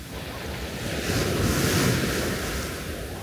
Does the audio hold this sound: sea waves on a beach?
yes